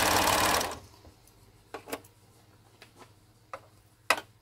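An overlocker stitches cotton face mask fabric in a loud, steady burst for about half a second, then stops, leaving a few sharp clicks and taps of the fabric being handled at a corner.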